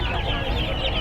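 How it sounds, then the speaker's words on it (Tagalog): Kabir chicks at a pets and livestock market, a crowd of small birds peeping and clucking continuously at close range amid steady market background noise. "Yan mga sisiw na kabir daw."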